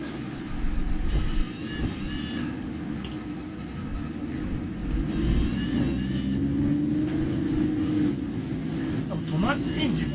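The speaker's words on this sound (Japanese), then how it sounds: "車変な音してんな" Car engine running with an odd noise during a typhoon, a steady low rumble with wavering revs under people talking nearby.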